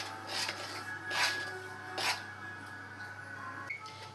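Rava semolina uttapam batter stirred with curd and water in a bowl, soft rhythmic scraping and rubbing strokes, a few louder swishes, quiet and close with no talk.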